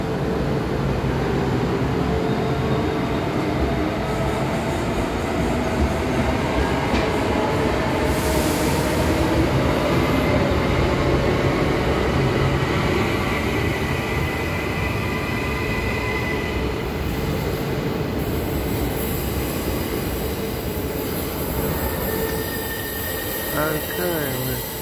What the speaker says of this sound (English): That train has got to go to Springfield